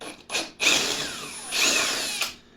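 A power drill bores into a Takahashi EM 200 telescope riser. It whines in several short bursts, then a longer steady run, then a final brief spurt, close and loud.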